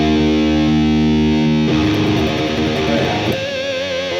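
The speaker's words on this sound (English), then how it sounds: "here's a good example of what I call OG, over gain, right? Keeping it there on the burn mode" Heavily distorted electric guitar through an EVH 5150 Iconic high-gain amp in burn mode, a sustained crunchy chord followed by fast chugging riffing, thick and saturated, played loud and close.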